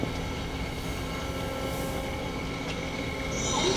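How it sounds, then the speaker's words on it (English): An Ikegai TU-30LL long bed CNC turning center running in low range at 100 RPM gives a steady mechanical drone with sustained tonal whine and faint squeal, even in level and unaccompanied by voices. "going to run the machine for you. That's low range, 100 RPM."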